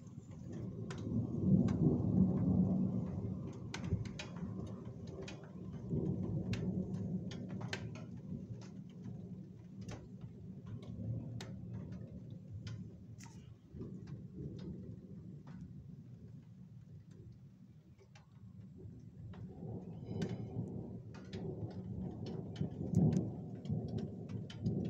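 A moderate, highly electric thunderstorm in Calvados, France, with steady rain pattering on surfaces, repeated sharp crackles and rolling thunder rumbles swelling and fading over the whole stretch.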